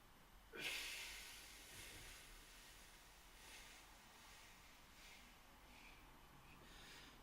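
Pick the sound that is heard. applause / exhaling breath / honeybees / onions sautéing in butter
exhaling breath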